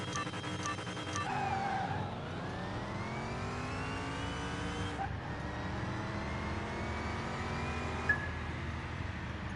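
Supercharged Mustang-style car racing in Car Mechanic Simulator 21, a game engine revving and shifting through gears with rising and falling whine, steady and fairly quiet, with no talk.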